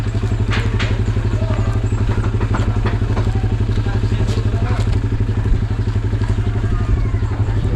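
Several motorcycles of arriving riders idling and rumbling nearby with a steady, throbbing engine beat, scattered clatter and knocks layered over it, and faint talk in the background.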